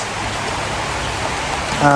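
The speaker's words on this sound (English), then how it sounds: "it's starting to rain pretty hard here" Heavy rain pours onto a tree canopy overhead, making a steady, dense hiss that holds throughout, with a brief louder burst and tonal sound at the very end.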